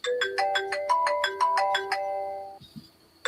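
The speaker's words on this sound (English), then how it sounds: "his phone goes off every night" A phone alarm ringtone plays a loud, repeating melodic sequence of bright electronic beeps for about two seconds, then stops, leaving a faint hum and a brief soft knock.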